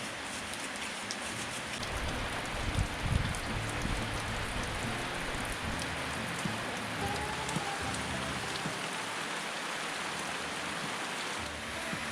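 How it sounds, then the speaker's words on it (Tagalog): Steady rain falls and patters on surfaces, a continuous hiss of drops with a few louder taps nearby at a rural hut, no voices. "Umuulan,"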